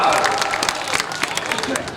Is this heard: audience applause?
yes